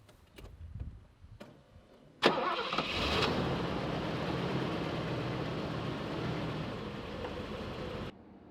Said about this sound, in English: As you can hear, the engine is very, very smooth.